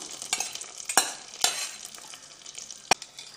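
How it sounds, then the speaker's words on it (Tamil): Hot tempering with onions is poured into agathi keerai sambar, giving a faint sizzle broken by a few sharp clinks and splashes, with no talking. "அடுத்ததான் நம்ம தாளிச்சதை இப்போ இந்த சாம்பார் கூட சேர்த்துடலாம்"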